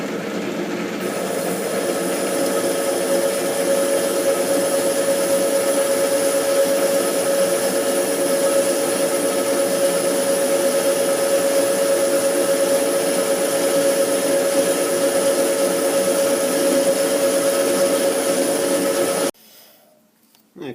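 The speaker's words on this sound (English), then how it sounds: "we'll get a parting tool set up and we'll just start roughing out our groove" A lathe plunging a wide parting tool to rough out a deep groove, giving a steady, loud whirring drone with a high sustained tone throughout, ending abruptly near the close.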